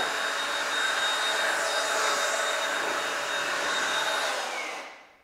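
An air blower blasts water off a freshly waxed car, a steady, loud hissing roar that holds evenly for about five seconds before cutting off and fading quickly.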